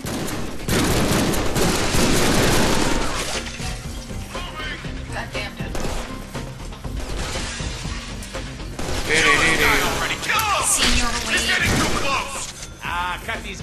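Rapid gunfire bursts from the Deadpool video game, loud and continuous for the first few seconds, then recurring crackling shots with crashes and mechanical clatter, a voice talking over parts of it.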